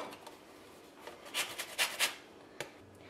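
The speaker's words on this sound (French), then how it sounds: "Après avoir bien lavé le citron, on va récupérer le zeste." A washed lemon is rubbed against a grater to take off the zest, giving a few quiet, short rasping strokes close by, followed by one sharp tap in an otherwise quiet room.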